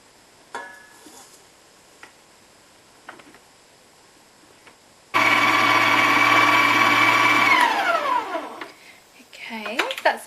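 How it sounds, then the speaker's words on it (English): An electric stand mixer starts abruptly and runs steadily as it creams butter and caster sugar, a loud whirring motor hum that holds for a couple of seconds then winds down, framed by quiet clicks and handling sounds. "you put the butter and the sugar in the mixer"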